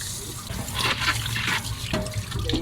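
A part of a Gaabor EC-20E01B 2L electric pot rinsed under a running tap, steady splashing water with small clatters and shifts as the piece is handled, close and moderately loud, with no talk.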